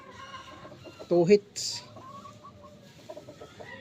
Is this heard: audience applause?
no